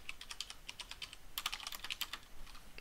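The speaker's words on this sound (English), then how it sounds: "So what I'll typically do is just kind of type out a couple of lines." Crisp, rapid keystrokes on a computer keyboard typing out a couple of lines, close and clear: an irregular patter of clicks, with a short pause, then a denser run of keys.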